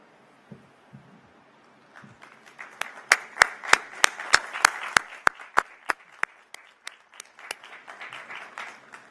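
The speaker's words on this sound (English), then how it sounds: "Your family, friends, and fellow students join me in applauding your success." Applause for graduating honors students at a university commencement, starting with a few scattered claps after brief murmurs, then a string of sharp, close individual claps standing out over a broader, softer crowd clapping that gradually thins.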